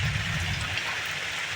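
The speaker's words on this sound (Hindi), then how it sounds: "यहाँ पे पानी गिर रहा है" Rain pouring down outdoors, a steady hissing wash at moderate level with a low rumble early on, no voices.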